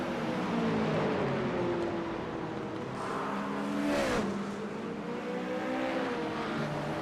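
Race car engines drone loudly at a Watkins Glen race, with several cars' pitches sliding up and down as they pass and one louder car sweeping by near the middle.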